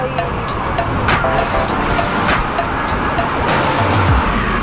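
A city bus goes past on a rainy street, giving a steady roadway rumble with wet tire hiss and passing traffic. Sharp clicks and low engine tones sit close by, and no one speaks.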